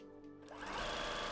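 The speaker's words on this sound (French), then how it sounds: "Et donc on va faire la couture au point droit." Sewing machine running a straight stitch on terry cloth for a bath cape, a short whirring burst that starts quiet and quickly rises to a steady loud motor drone.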